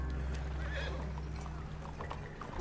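A horse whinnies in a video game, a steady neigh rising over a constant low engine-like hum and background game noise.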